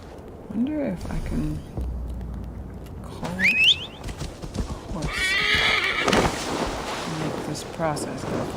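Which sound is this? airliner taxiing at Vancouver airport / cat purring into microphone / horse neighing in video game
horse neighing in video game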